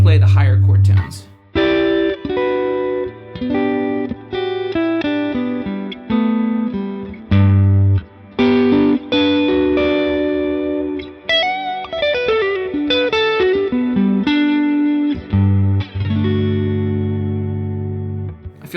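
Electric guitar through a Line 6 Helix dynamic hall reverb, a low single note followed by higher chord tones, sustained and washing into a lush atmospheric pad, loud and close with long reverb tails.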